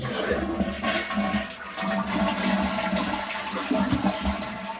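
A toilet flushes close by with a rushing, gurgling surge of water that swells and sloshes steadily, heard alone without any voices.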